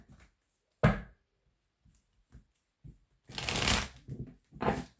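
Oracle cards from a mirror-themed deck are shuffled in several quick, papery riffling bursts, one short and two longer, with soft handling taps in between and no talking.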